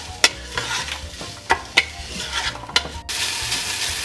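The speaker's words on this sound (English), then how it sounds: "So we'll just stir-fry the onion." Onion being stir-fried for a lamb curry, a steady close sizzle broken by several sharp scrapes and clacks of the spatula against the pan, with a brief burst of louder frying near the end.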